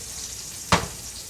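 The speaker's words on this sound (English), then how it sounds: "I bloom the spices in the oil just the classic way" Mustard seeds, cumin and potatoes fry in oil with a steady, even hiss, broken once by a single sharp crackle or scrape up close.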